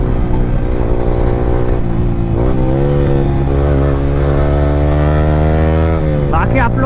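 A Yamaha R15 V3 motorcycle fitted with an Akrapovic R9 exhaust is ridden, its engine a loud, steady drone whose pitch climbs and falls, then rises sharply near the end.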